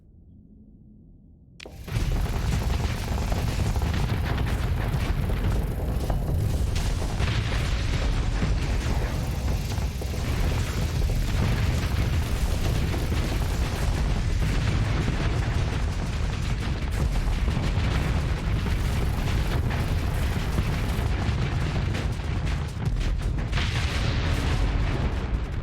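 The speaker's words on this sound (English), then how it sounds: "Oh, those plasma cannons. Love them." Plasma cannons fire and explode in the space combat game Starsector, a dense, loud, continuous barrage of booms and rumbling blasts that begins abruptly and carries on without pause.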